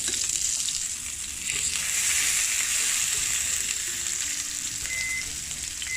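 Salmon pieces frying in a pan, a steady close sizzle and crackle running throughout with no talking.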